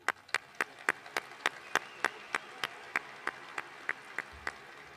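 Sharp claps ring out at a steady, evenly spaced rhythm at a university commencement ceremony, sounding close and distinct rather than like a dense crowd.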